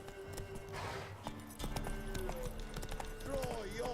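Game horse Roach gallops in steady clip-clop hoofbeats, with a voice and game sounds over the top.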